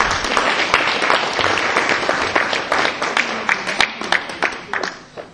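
A church congregation applauding during a sermon, a dense wash of clapping that thins into scattered separate claps toward the end.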